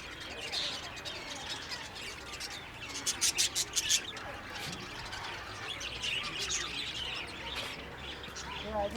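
A small bird at a zoo in Kathmandu chirps in a quick burst of bright tweets, with other calls scattered around over a bustling outdoor background; people talk nearby.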